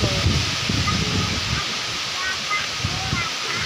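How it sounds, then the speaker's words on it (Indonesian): Strong gusty wind blows at midday, a steady broadband rush with rising and falling gusts and low rumbling buffets, while faint voices are heard in the background. "Dan anginnya kencang banget loh."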